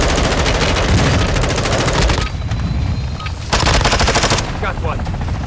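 Rapid automatic gunfire rattles in a Call of Duty DMZ match, loud and close in long sustained bursts, breaking off briefly around the middle before another heavy stretch of shots resumes.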